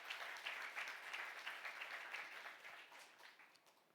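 A church congregation applauds during a sermon, steady sustained clapping from many hands throughout, moderately loud and filling the room without speech over it.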